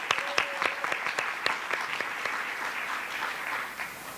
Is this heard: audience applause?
yes